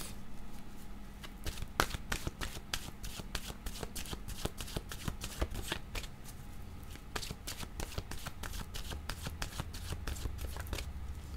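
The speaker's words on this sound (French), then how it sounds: "Je vais demander une carte de mon oracle de l'âme intuitive." Oracle cards shuffled by hand, giving a steady run of quick papery riffles and slaps, close and fairly soft, with no talking.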